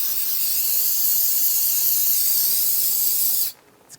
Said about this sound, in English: Use some brake parts cleaner.